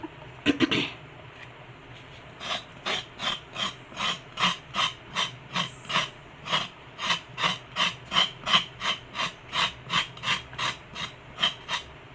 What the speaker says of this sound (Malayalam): ക്യാരറ്റ് കട്ട് ചെയ്യാം